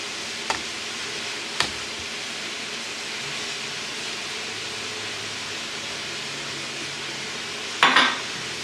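Spoon stirring onion through pepper stuffing in a pan, a steady soft sizzle and scrape under a few sharp knocks against the pan, close and continuous with no voices.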